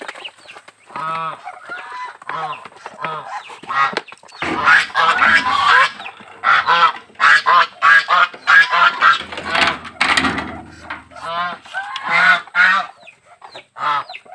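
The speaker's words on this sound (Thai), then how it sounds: "โอ้เป็ดน้อยกับแม่มัน" A mother duck and her ducklings call loudly in a farmyard at feeding time, giving repeated honking, quacking bursts in uneven clusters close by, with little talk.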